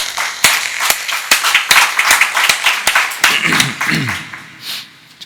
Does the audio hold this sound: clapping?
yes